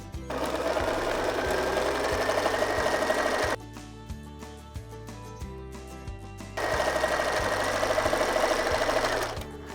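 A sewing machine stitches the long part of a quilt border in an oval loop-to-loop design, its rapid steady needle hum running loud and close, easing to a softer, slower pace midway before speeding up again.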